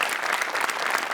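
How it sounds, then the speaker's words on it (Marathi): Dense, steady applause from a studio audience at a Marathi comedy show, a continuous wash of many hands clapping at full volume with no voices over it. "मोठेसाठी एकदा जोरदार टाळ्या"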